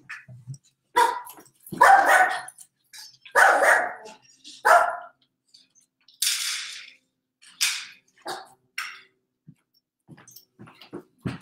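Dogs bark and yip in scattered bursts at close range, with sharp loud barks separated by quieter gaps and some softer whimpering sounds.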